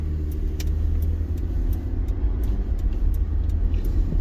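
Toyota 4Runner engine slowing and downshifting through the gears, heard as a steady, close low rumble with a faint high whine on top, holding an even level throughout with no talk.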